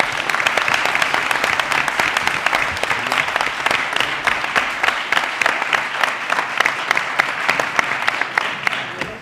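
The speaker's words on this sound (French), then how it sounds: "je pense que nous pouvons également applaudir chaleureusement Alexia Colin-Bonardo." Warm, sustained applause from an audience at a staged trial event, a dense steady clatter of many hands clapping close by, continuing evenly for several seconds with no talk over it.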